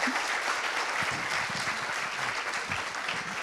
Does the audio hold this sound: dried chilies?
no